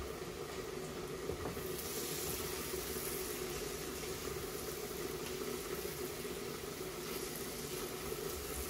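Onion and meat, for a loitta shutki bhuna lunch, sizzle and bubble in a pot with a steady, fairly quiet hiss that carries on unbroken and without any voices.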